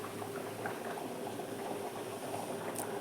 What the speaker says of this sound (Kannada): ನೀರು ಕುದಿಯಾಕತ್ತೆ ನೋಡ್ರಿ